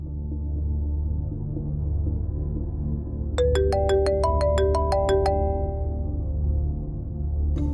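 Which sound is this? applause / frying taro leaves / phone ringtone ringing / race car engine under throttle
phone ringtone ringing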